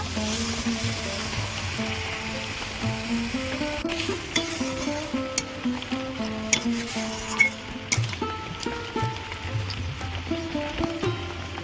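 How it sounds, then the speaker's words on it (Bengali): A pan of prawn dopiaza gravy simmers with a bowl of milk poured in, producing a steady bubbling sizzle with scattered stirring clicks, while tonal music-like sounds run underneath. "এক বাটি দুধ নিয়েছি দিয়ে দেব"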